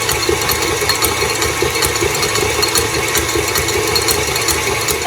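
Electric mixer whisking egg whites for macarons, a steady motor whir with a rattly, slightly pulsing texture from the beaters, loud and close throughout.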